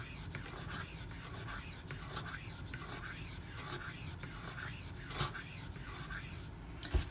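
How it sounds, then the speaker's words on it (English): Ganzo FH51 knife blade being sharpened on silicon carbide stones in a Razor Edge System clamp, a steady run of repeated scraping strokes in an even rhythm with an occasional sharper grinding scrape, close and quiet, with no talking. "That grind you hear occasionally as I come back on the knife is me hitting the plunge grind here."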